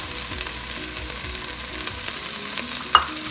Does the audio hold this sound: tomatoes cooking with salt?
yes